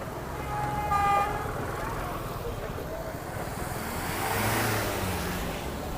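Street traffic flows again past a protest near the National Assembly, with a brief horn toot early on, passing cars swelling and fading, and background crowd voices throughout.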